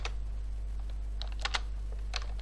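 Quick bursts of key taps on a computer keyboard over a low steady hum, a handful of close clicks in small clusters with no talking.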